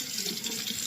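Water runs from a tap as someone sits and washes their hands, a brief, steady splashing hiss.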